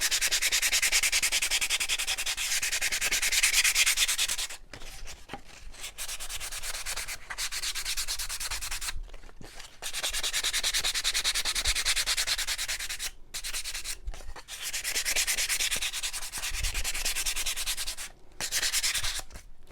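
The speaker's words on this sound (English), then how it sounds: "So I'm probably going to sand some of this off." Sandpaper rubbed by hand over a spray-painted wooden shiplap platter gives close, loud rasping strokes in long bursts separated by brief pauses, with no talking.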